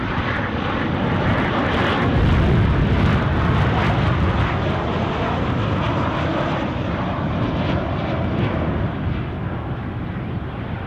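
Ryanair airliner inbound to Edinburgh, its engines giving a loud, sustained roar that swells slightly and then eases as the jet passes close, with no voices.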